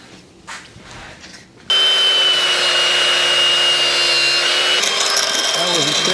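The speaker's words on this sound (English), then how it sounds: "it needs to be cut with an angle grinder, so we'll hit it right there." An angle grinder cuts into the rusty metal body of a 1953 GMC truck. After a quieter opening it starts abruptly and runs loud and steady with a high, constant whine and gritty hiss to the end.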